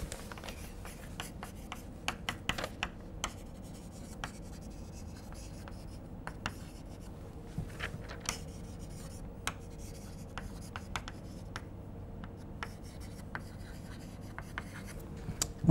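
Chalk or marker writing out equations on a board during a chemistry lecture, with faint scratchy strokes and taps spread through a quiet room, no talk.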